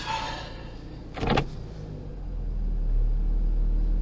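A Mercedes with a newly replaced gearbox mount being shifted from park into drive: a brief mechanical clunk, then a low engine rumble that swells and holds steady, close by with no talking.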